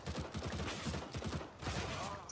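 AK rifle fire in a CS:GO match, rapid sustained automatic bursts, fairly faint and distant across the whole stretch with a brief gap midway.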